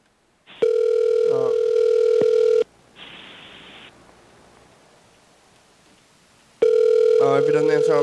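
Telephone tones on an outgoing call: a steady ringback tone runs for about two seconds, followed by a short noisy burst, quiet, and then the ring tone starts again near the end, with no talk over it.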